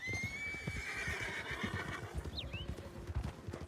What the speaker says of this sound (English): Wild horses.